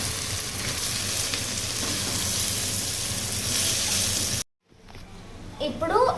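Mushrooms fry in a pan for brown basmati rice pulao, a steady close sizzle running for several seconds before cutting out, followed by quieter kitchen clatter.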